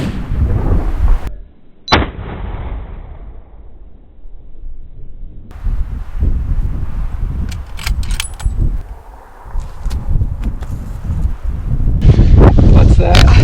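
A rifle shot cracks sharply once during an antelope hunt in open country, a loud brief report that dies quickly into wind noise, with excited voices talking before and after.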